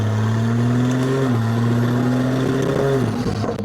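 A BMW engine hums steadily, then its pitch steps up and climbs as it accelerates, with a gear change partway through, close and loud.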